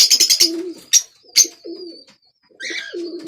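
Lal Pari pigeons from Kasur coo in close, repeated throaty bursts with a few higher chirps between them, loud and near with short pauses.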